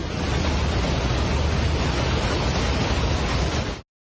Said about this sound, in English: roads are destroyed and buildings buried by thundering water the color of wet cement